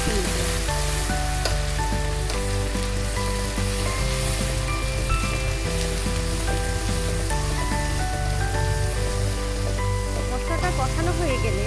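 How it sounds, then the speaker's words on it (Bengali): Mustard-chili spice paste frying for amra pickle, a continuous sizzle sitting under loud, steady background music that largely masks it. "মশলাটা একটু কষিয়ে নিব"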